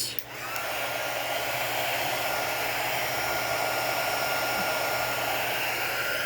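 A heat gun blows steadily and loudly at close range while drying a craft door hanger, a continuous broadband whoosh with a low hum that starts abruptly and holds for several seconds, with no voices.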